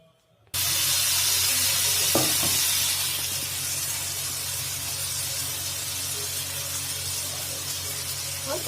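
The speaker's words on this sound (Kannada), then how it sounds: "ಫ್ರೈ ಮಾಡ್ತಾ ಇದ್ದಾಳೆ, ಫ್ರೈಗೆ ಇಟ್ಟಿದ್ದಾಳೆ" Marinated food is placed into hot oil, and after a moment of near silence a loud, sudden sizzle erupts and settles into a steady, bright hiss of frying that continues throughout.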